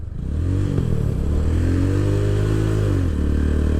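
A motorcycle at a beach throttles off and shifts gears. The engine drone dips and wavers as the clutch is worked, then settles into a steady loud hum close by.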